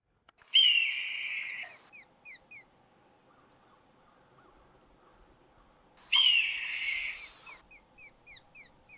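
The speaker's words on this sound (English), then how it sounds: "these jays do make a whole bunch of other more pleasing sounds, and can even mimic the calls of other birds" A blue jay giving two loud, harsh screeching calls like a hawk's scream, several seconds apart, each followed by quick repeated chips, heard close in a quiet outdoor setting with no voices.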